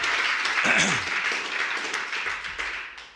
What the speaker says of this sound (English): you guys can applause that.